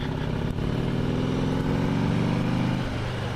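A fuel-injected motorcycle engine running steadily and loudly nearby, a constant droning hum whose pitch shifts slightly near the end.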